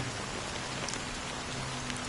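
Steady rain pours in a Honkai Star Rail game cutscene, a dense, even hiss of drops on surfaces that fills the scene with no voices over it.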